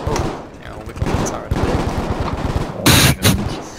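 Automatic gunfire in the Battlefield video game rattles in rapid bursts, with a sharper, louder volley near the end, mixed with some talk.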